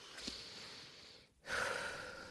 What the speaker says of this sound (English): you take a deep breath